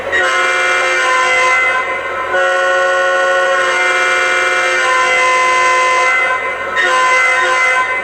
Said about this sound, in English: You can hear it has a different horn from the SD40T-2.